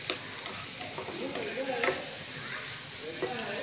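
Soybean chunks and capsicum sizzle over high flame in a pan while a utensil stirs them, giving soft scraping strokes over a steady close frying hiss.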